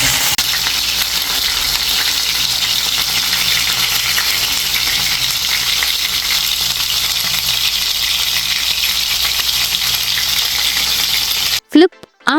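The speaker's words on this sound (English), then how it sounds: "Heat coconut oil in a cast iron tawa and place the marinated fish. The sizzling sound is music to the ears." Marinated fish sizzles steadily in hot coconut oil on a cast iron tawa, a loud, continuous crackling hiss that ends in a brief clatter.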